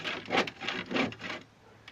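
A hand saw cutting through wood in short, close strokes, three or four rasping pulls in quick succession before falling quiet.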